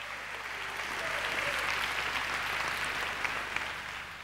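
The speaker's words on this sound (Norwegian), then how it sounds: "God applaus igjen!" Sustained applause from an awards-show audience in a concert hall, steady clapping that fills the whole stretch at an even, fairly loud level.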